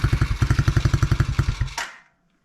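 A Tao Tao DB10 dirt bike engine catches with a little throttle held, popping in a fast even chug for under two seconds before it cuts out to silence.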